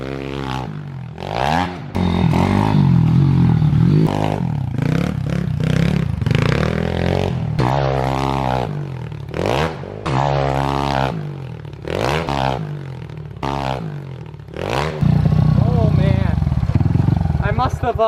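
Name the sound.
pit bike engine revving while jumping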